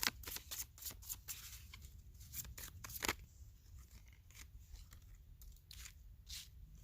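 Tarot cards being shuffled by hand, a rapid series of crisp riffling and flicking bursts in irregular clusters, close and fairly quiet, with no talking.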